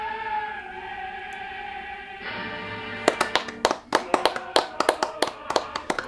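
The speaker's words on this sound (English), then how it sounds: "I'm clapping because it's over." A single person claps their hands about fifteen times in an uneven, lively burst of sharp, close, dry slaps, after a few seconds of steady tonal background sound.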